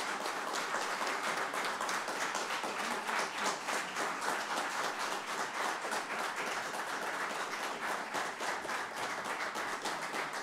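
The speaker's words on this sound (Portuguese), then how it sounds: "dessem pelo menos uma salva de palmas à 6ª legislatura" An audience at an informal legislative session claps for the members of the 6th legislature, a sustained, moderately loud round of applause with individual claps audible in the steady, even patter.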